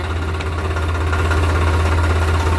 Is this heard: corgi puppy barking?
no